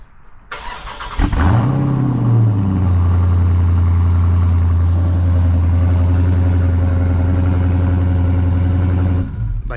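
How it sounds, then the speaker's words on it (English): A widebody-modified car's exhaust on a cold start: a short cranking burst, then the engine catches with a quick rev and settles into a loud, deep, steady high idle rumble, recorded close. "this exhaust sounds really good. I'm gonna let you get that cold start"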